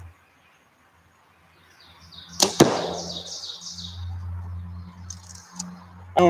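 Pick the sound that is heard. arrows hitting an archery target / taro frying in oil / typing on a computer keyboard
arrows hitting an archery target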